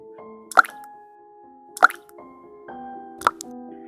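Three clear water drips plop one by one, spaced over a second apart, each a sharp, close splash against a quiet, low sustained musical drone.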